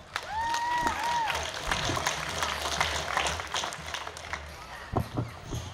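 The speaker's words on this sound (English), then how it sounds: "join me and give this delegation one more round of applause." At an outdoor Independence Day celebration, a crowd gives a round of applause, a moderate clatter of clapping mixed with scattered background voices and a few tonal squeals, tapering toward the end.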